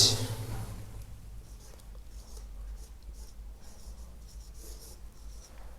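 Handwriting in a notebook during a lesson, soft scratchy strokes of a pen on paper in short irregular bursts, close and quiet with no voices.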